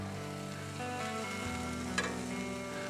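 Onions sizzling steadily in a pan over a campfire-style chuck wagon cooking setup, a soft constant frying hiss with one brief clink partway through, no talking.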